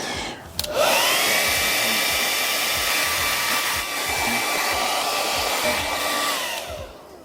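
A hair dryer or heat gun warms the film on a black oval Ford Bronco badge. It gives a loud, close, steady whooshing whir that runs unbroken for about seven seconds with no voices.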